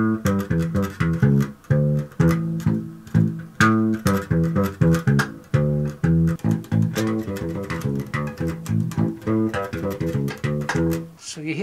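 A syncopated funk bass line with a fat, punchy low end, played in busy, choppy rhythmic bursts alongside other instruments, steady and prominent throughout.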